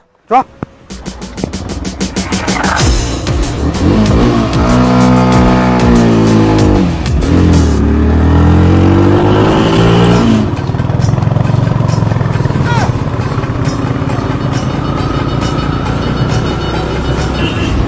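A motorbike engine revs and roars up and down in pitch, loud and close, with occasional voices under the steady engine noise.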